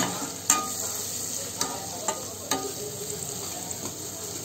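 A spoon stirs spices together in a bowl for chana chaat, with a few sharp clinks against the bowl over a steady soft scraping, close by and with no voices.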